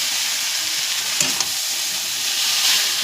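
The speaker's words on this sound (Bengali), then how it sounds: "এর আমি চাউমিনটা দিয়ে দেবো। চাউমিনটা দিয়ে কিন্তু নাড়া দেবো" Chowmein sizzling steadily in oil in a pan while being stirred, a continuous bright crackle with a couple of soft clinks of the utensil and no voices.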